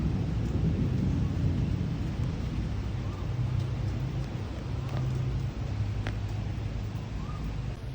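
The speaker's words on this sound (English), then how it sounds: "thunderstorms here in Singapore usually you know, they're quite sudden" Heavy rainstorm in Singapore, a dense continuous wash of rain with low rolling rumbles of thunder, steady and fairly loud throughout.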